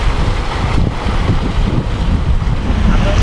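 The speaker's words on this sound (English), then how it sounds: "I still can't believe how big those waves are behind your head." Gusting wind buffets a monohull sailboat at sea in big waves between St. Vincent and Bequia, a loud, continuous roar of wind and water rushing past with no voices.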